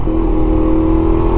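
A QJMotor Race 250 single-cylinder motorcycle holds a loud, steady engine drone under acceleration, a strong buzzing tone rising slightly as it pulls through the gear.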